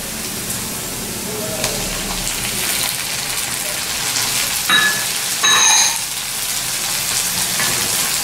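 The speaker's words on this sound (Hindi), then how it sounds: "अब हम इसमें टमाटर को डालकर और हरी मिर्च को डालकर भी भून लेते हैं" Tomatoes and green chilies sauté in a pan for a green beans and potato dish, a continuous close sizzle with crackling bursts and a few metallic utensil clinks.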